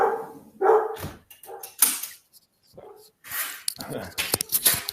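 A dog at a glass door gives a few short barks and whimpers while people talk close by.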